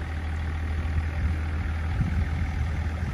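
A Range Rover with a diesel V8 idling nearby: a steady low rumble with an even throb and no other sounds.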